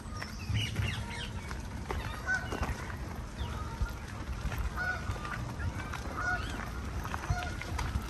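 Ducks and swans honking and calling in scattered bursts over a low rumbling background at a park lake in London, fairly distant and moderately faint.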